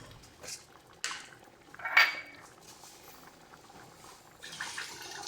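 Sugar goes into a pan of tomato chutney and gets stirred, bringing soft scraping and clinks of a spoon against the pan, with one brighter metallic tap midway, close and fairly quiet.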